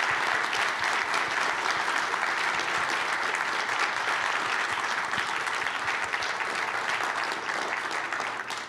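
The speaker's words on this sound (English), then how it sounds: "I hope everyone here will join me in giving you all a round of applause" Sustained applause from a conference audience after a panel talk, a dense steady wash of many hands clapping that holds for several seconds and fades slightly at the end.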